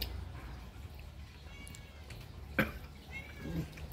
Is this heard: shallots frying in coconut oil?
no